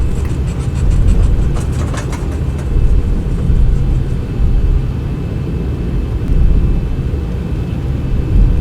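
Steady roar of Boeing 737-800 engines while taxiing in the X-Plane 11 flight simulator, a constant low rumble with faint high whine, unchanging throughout.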